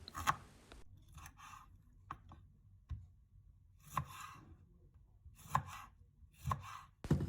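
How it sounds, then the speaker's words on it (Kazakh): A knife chops green onion and tomatoes on a board, sharp distinct thuds arriving one by one at an uneven pace, close and clear in a quiet room. "Жуамызды да әдемілеп тұрып турап шығамыз."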